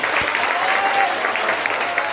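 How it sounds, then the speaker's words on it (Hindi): A congregation at a Sunday church service claps in thanks to God, producing a loud, sustained round of applause from many hands, close and dense throughout. "ताली बजा के परमेश्वर को धन्यवाद"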